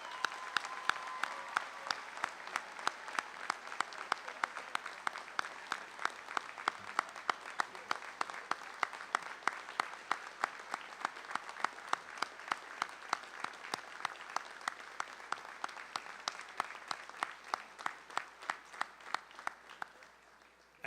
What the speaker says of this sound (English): let's have a round of applause for all our medal recipients.